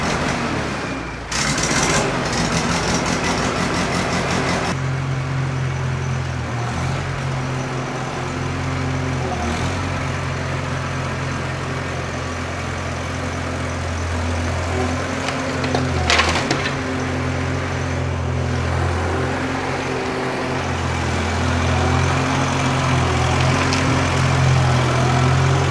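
A classic tractor engine cranks a few times and then keeps running, with a loud steady close idle that holds for the rest of the stretch and has no talk over it.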